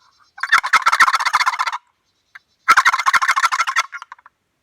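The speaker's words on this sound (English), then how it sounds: "it's going to sound like a turkey gobbling" Two bursts of rapid rattling, gobble-like clucking from a turkey box call shaken back and forth, each about a second and a half long with a short pause between, loud and close.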